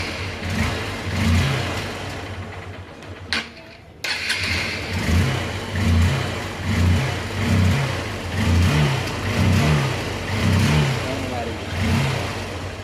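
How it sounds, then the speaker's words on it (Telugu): A ten-year-old Honda Unicorn motorcycle, fresh from an engine oil change at home, cranks and starts, then revs in repeated rhythmic pulses close by, with talk heard over the engine. "బండి అయితే ఒకసారి స్టార్ట్ చేసుకుందాం"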